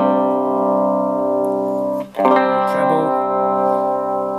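A sustained, slightly distorted electric guitar chord rings through a small Squier/Fender SP-10 amp, cutting out briefly midway before returning with a fuller, brighter tone.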